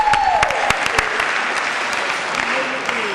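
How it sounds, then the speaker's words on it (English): Steady, dense round of applause from a luncheon audience at a Maryland Black Caucus event honoring a delegate, sustained clapping with a few louder individual claps and a faint tone under it. "Can we give Delegate Veronica Turner another round of applause?"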